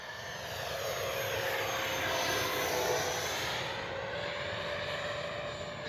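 A Freewing 70mm Vulcan RC jet roars steadily and loud across the whole stretch, a broad rushing whine with a sustained high tone, passing close overhead with landing flaps down.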